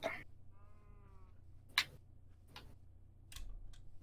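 A Minecraft sheep lets out a short wavering bleat, faint and clear against a quiet low hum, alongside a few brief clicks and rustles.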